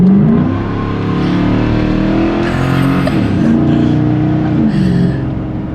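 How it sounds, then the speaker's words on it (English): A truck's engine revs hard at full throttle with the gas pedal floored, a loud sustained roar whose pitch climbs and dips slightly as it accelerates, with no talk over it. "push the gas pedal all the way down"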